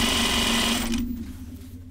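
A sewing machine stitching binding on a notions case hums in a fast, close, steady run before slowing and stopping.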